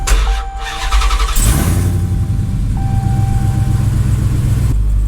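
A Dodge Dakota with a swapped SRT Hellcat engine cranks over with a loud, continuous mechanical churn close by, a chime tone sounding over the start, and no speech.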